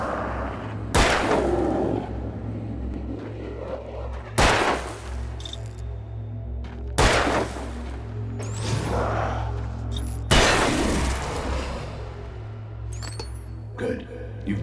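Gunshots in the Alan Wake video game: five loud, sharp, reverberant shots spaced a few seconds apart over a low droning ambience.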